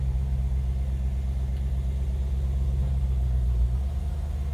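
A heavy, low engine rumble from a 1963 Ford F-250 pickup drones steadily throughout, loud and close, with a rough, uneven, clunky texture of idling and rattling.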